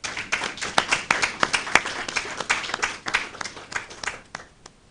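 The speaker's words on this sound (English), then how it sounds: "Round of applause again, please." A crowd applauding at a National Competitiveness and Productivity Council event in Saint Lucia, with brisk, scattered claps that keep up for a few seconds, then thin out and fade toward the end.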